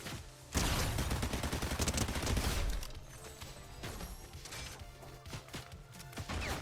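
A burst of heavy gunfire in Fortnite erupts loudly for about two seconds, followed by quieter scattered shots, thuds and impacts that continue more distantly, with no voices.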